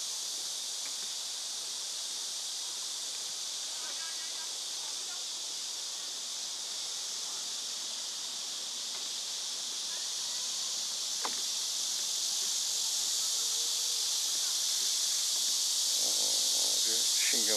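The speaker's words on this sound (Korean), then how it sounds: "그냥 매미 소리가 요란하네, 요란해" Cicadas buzz in a loud, steady high drone across a Korean arboretum at Hanbat, constant throughout and swelling slightly toward the end, with faint brief sounds underneath.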